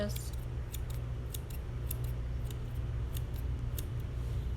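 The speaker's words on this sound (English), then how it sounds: "I'm gonna just trim these little bits of fur right here by just pushing them up" Scissors snip repeatedly while trimming fur on a dog's paw, a steady series of crisp close cuts over a constant low background hum.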